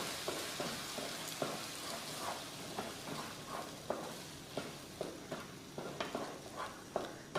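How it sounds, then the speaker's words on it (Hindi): Ingredients roast in a pan on a medium gas flame with a steady soft sizzle, while a spoon scrapes and stirs in regular taps and strokes. The sound is quiet and close, with no talking. "मीडियम फ्लेम पे इसको हम 10 से 15 सेकंड अच्छे से भून लेंगे"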